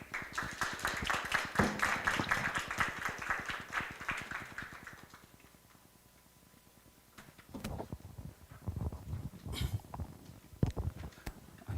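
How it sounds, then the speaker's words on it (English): Scattered clapping from a small audience, fading away midway, followed by quieter irregular taps and shuffling noises. "Please give him a big round of applause."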